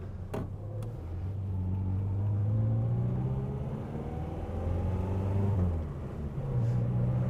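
A Morris Minor 1000 drives along with a steady, close engine drone that rises and falls with the throttle. Road rumble sits underneath it, and there is no talking.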